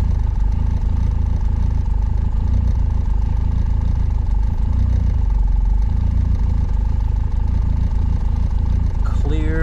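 A car fitted with a swapped Honda K-series engine idles steadily close by, a constant low rumble with a faint whine, and a brief higher sound right at the end.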